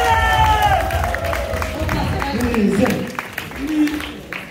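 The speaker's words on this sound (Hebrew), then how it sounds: "כפיים לכלב!" A crowd claps and cheers to call a dog during an outdoor activity, a burst of clapping and shouting voices mixed with babble, with whistle-like tones at the start and chatter continuing throughout.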